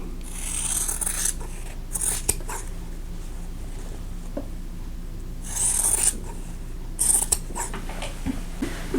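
Scissors trim fabric pieces for a folded star quilt block, short crisp snipping bursts at irregular intervals over a quiet room, close and fairly soft, with no talk.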